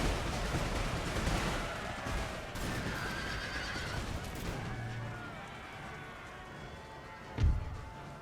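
Massed musket fire crackles across a video game battlefield of the American Revolution, a dense continuous rattle of shots mixed with horse neighs and a sharp nearby boom near the end, with no talk.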